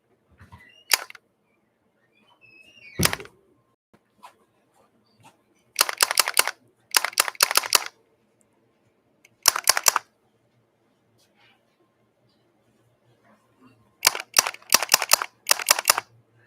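Light-gun shots from the Invasion arcade game running in MAME, heard as sharp electronic zaps fired in quick clusters of three to five, plus a few isolated single shots, loud and clear with no talk over them.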